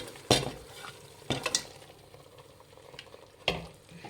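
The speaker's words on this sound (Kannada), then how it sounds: "ಇದನ್ನು ಚೆನ್ನಾಗಿ ಹುರಿಬೇಕು ಚಕ್ಕೆ ಲವಂಗದ್ರಲ್ಲಿ" Mutton pieces fry in oil with cinnamon and cloves in a pot, giving a low steady sizzle broken by a few sharp stirring scrapes and clanks of a utensil, close up and with no talking.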